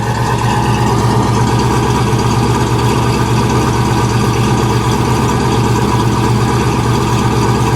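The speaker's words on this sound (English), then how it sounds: "let me just listen to it idle for just a second" The 427 V8 engine of a 1966 Chevrolet Caprice idles close by, a loud, steady rumbling burble with an even pulsing rhythm throughout.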